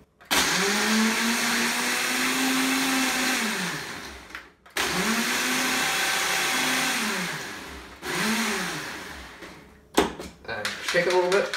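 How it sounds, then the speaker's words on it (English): Electric blender blending a kale and apple smoothie with honey in three loud whirring bursts, each starting and stopping abruptly with a pitch that rises and falls, followed by brief clattering of the jar near the end. "blender up"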